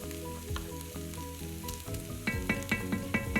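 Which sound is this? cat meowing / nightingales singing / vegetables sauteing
vegetables sauteing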